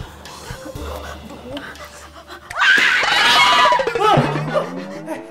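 People scream loudly and in a rising chorus of shrill cries after a stretch of quieter talk and shuffling, with voices overlapping.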